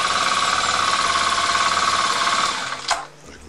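Kawasaki KLX 250 motorcycle engine running cold at a fast idle, a loud, steady, close mechanical hum with rapid even pulsing that abruptly dies away as it is switched off.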